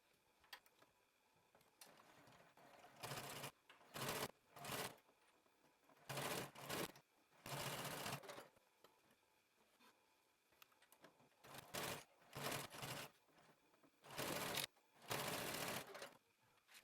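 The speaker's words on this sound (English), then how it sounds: "Then I'm going to head over to my serger and I'm going to serge it just to clean up the edges" A serger overlocking fabric edges runs in short bursts of rapid mechanical stitching separated by quiet pauses, close and fairly clear, with no talking.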